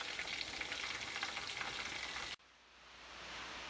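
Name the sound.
frying bass and bream fish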